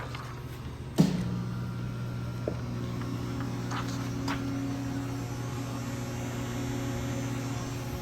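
A 1000-amp, 12-volt rapid rectifier switches on with a sharp click, then settles into a steady, fairly quiet electrical hum with a low tonal drone that continues unchanged.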